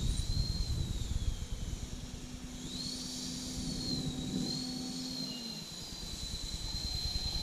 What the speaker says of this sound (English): Okay, taxiing off.